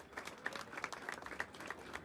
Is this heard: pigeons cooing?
no